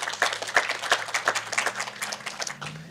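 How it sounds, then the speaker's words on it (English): A small audience at a seed bank panel gives light, sparse applause for a guest, with a few distinct claps in an even rhythm over a low background hum. "put your hands together in applause for Miss Gina Marie"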